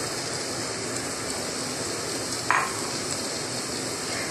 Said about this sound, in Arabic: وبقلب لغاية ما البصلة تصفر